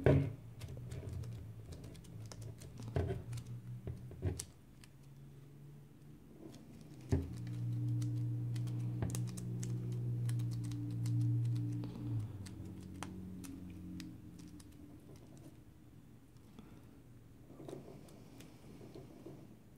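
Keycaps pressed and clicked on an Ergodox keyboard during assembly, scattered taps and presses at irregular intervals, close but soft, with a low hum in the background.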